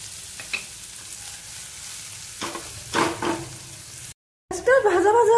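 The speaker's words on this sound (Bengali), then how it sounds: "পেঁয়াজটা ভাজা ভাজা হয়ে গেছে," Chopped onions fry and crackle in a pan, a continuous sizzle broken by stirring scrapes and clanks, then a brief drop to silence before a louder burst of frying.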